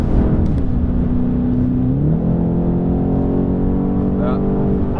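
A BMW M8 Competition pulls hard from inside the cabin, its engine note rising smoothly through the revs with a gear change midway, a steady droning roar with people speaking over it.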